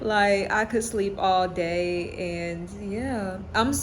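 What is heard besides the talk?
No everyday noises stand out.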